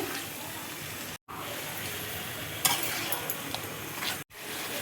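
Ground spice paste with tomato, Kashmiri chili powder and spice-rinse water being stirred in a pan for a vegetarian jackfruit curry, a steady sizzle with scraping stir strokes, broken by two brief silent gaps.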